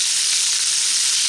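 Bratwurst crisps in butter inside an Instant Pot, producing a steady, loud, close sizzle with constant hissing and no talking.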